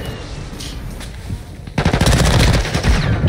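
Call of Duty Warzone machine-gun fire erupts after a quieter start, a loud close burst of rapid shots rattling steadily to the end.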